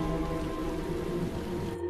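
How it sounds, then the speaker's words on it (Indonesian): Steady rain pours down in a film scene about a shinobi and a ninja clan, a continuous broadband hiss over low rumble and tonal music, holding constant before thinning at the very end. "Di bawah guyuran hujan"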